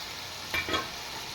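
Potatoes and mushrooms frying with spices in a pan give a quiet, steady sizzle, with two brief stirring scrapes in the middle and no voices.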